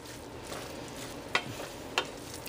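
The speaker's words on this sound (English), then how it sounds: "mixing that pesto sauce in" Pesto sauce being stirred into heated spaghetti squash: a quiet soft sizzle with faint scraping, punctuated by two brief louder clicks of a utensil against the pan.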